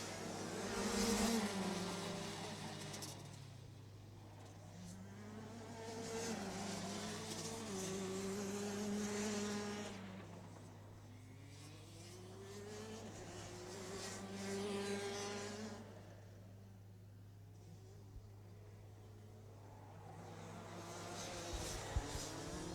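Rotax Max karts in DD2 and Junior Max classes racing on a track, with high-pitched two-stroke engines rising and falling in pitch as they pass and fade, the swells recurring every few seconds.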